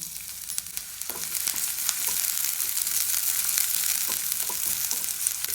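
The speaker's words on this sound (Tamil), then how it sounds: "கொஞ்சமாக எண்ணெய் ஊற்றிக்கலாம் இப்போ இந்த வெங்காயத்தை ஒரு சும்மா ரெண்டு வதக்கு வதக்கிட்டு அப்புறம் சேர்த்திக்கலாம்" Onions sauté in a little oil in a pan for egg kalakki, giving a continuous close, bright sizzle with faint stirring scrapes and no voices.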